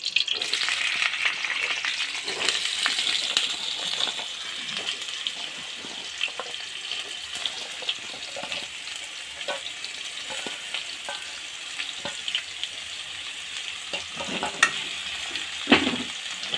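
Sliced pointed gourd (potol) frying in hot oil: a soft, steady crackling sizzle continues throughout, with scattered small pops and a few utensil clicks.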